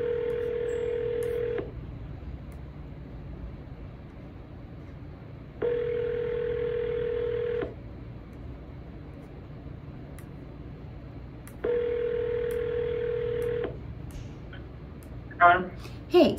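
On a realtor's cold call, a telephone line rings back after the call is redialed: three long, steady ring tones separated by pauses, ending with a couple of faint clicks.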